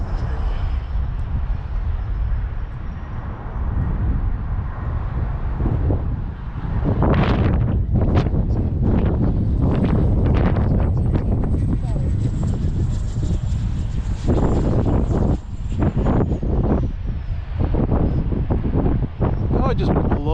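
Strong gusty wind buffets the microphone at an RC plane flying field, loud and roaring throughout, with a small FMS Avanti model jet's engine whining in and out and people talking under the rush.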